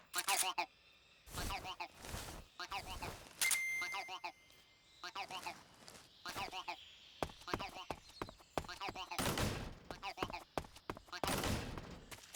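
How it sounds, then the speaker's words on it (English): Gunshots in Metal Gear Solid 3: sharp, spaced cracks repeat at an uneven rhythm, some close and loud, others quieter, with a short electronic tone and someone talking between shots. "I'm shooting you."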